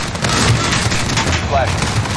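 Rapid automatic gunfire bursts in Call of Duty: Modern Warfare 2019, a loud dense rattle of shots filling the whole moment with a distant tonal whine beneath.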